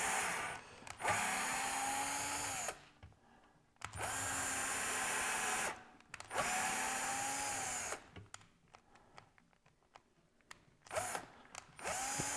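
Power drill cuts tweeter holes in a wooden speaker cabinet, running in several bursts of a few seconds each, the motor whine climbing and then dropping, with quiet gaps and brief clicks between runs, close and fairly loud.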